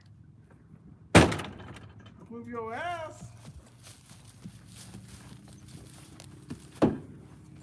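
Two sharp heavy thumps of a horse's hooves striking inside a trailer as it struggles, with a whinny in between and a voice speaking over low background noise.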